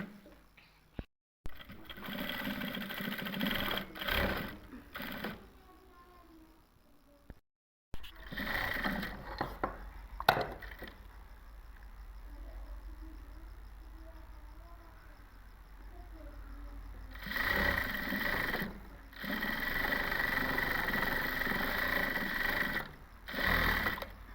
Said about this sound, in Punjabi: ਹੁਣ ਮੈਂ ਇੱਥੇ ਸਲਾਈ ਲਾ ਦਾਂਗੇ